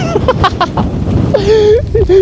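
Strong wind blows on Tatra Mountain in Poland, a loud low rumble buffeting the microphone beneath a nearby voice talking.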